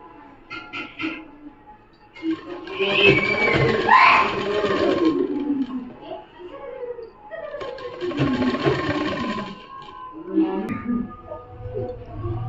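A sewing machine stitches the folded hem of a frock in two loud, steady runs, each lasting a few seconds, with quieter handling of the fabric between them.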